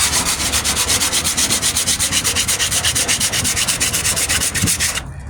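Sanding filler by hand on the wheel arch of a 1998 Ford Ranger, a loud, close, rhythmic back-and-forth rasp of steady even strokes that stops abruptly near the end.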